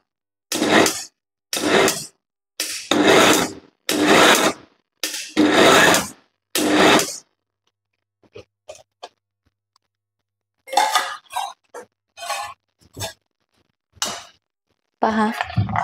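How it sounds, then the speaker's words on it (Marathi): Homemade ghee being stirred with a spoon in a pot, giving a series of loud, clear metallic scrapes and clinks in separate bursts, with a pause and then quieter, scattered clinks. "हे मधून असं चम्मचने एकदा व्यवस्थित मिक्स करून घ्यायचं."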